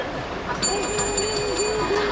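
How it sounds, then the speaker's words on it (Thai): A hand bell rings during a livestream sale of secondhand clothing, starting partway through and sustaining a bright, steady ringing under a talking voice. "ตีกระดิ่งให้หน่อย"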